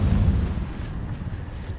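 Incendio fire spell cast in Hogwarts Legacy, a continuous low roaring whoosh of flame with a rumbling, eruptive body that holds steady throughout.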